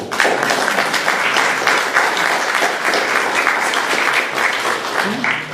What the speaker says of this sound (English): Let's have a clap for the Blue